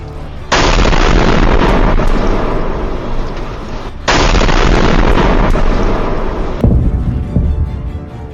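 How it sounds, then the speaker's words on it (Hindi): Iranian missile launches and explosions, heard as two long, loud roaring blasts of broadband noise that each sustain for several seconds, followed by a rumbling tail. "2 घंटे के अंदर ईरान दागने लगा सबसे खतरनाक मिसाइल।"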